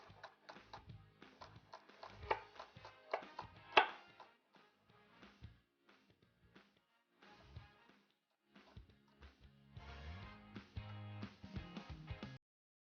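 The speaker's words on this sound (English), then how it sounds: "Just going to chop it up, just some nice fine pieces" A knife chops green and white parts into fine pieces on a cutting board, with rapid close taps in bursts, a short pause midway, then a final quicker flurry of chopping.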